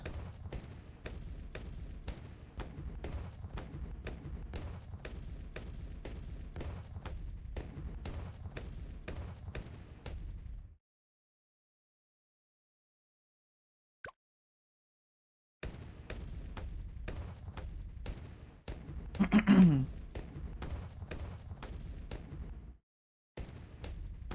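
Cluster bombs and heavy bombs go off in the tower defense game Bloons TD 6 as a rapid, steady barrage of thumping blasts. The barrage stops for several seconds, then resumes with a louder burst, all without talking.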